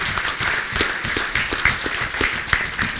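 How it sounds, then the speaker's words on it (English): An audience at a 2018 village State of the Village address claps for high school students, with dense, moderately loud applause running steadily for a few seconds. "I just want to give them a round of applause."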